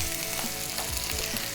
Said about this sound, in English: I deliberately want that just to sizzle away like that for the next sort of 1 minute or so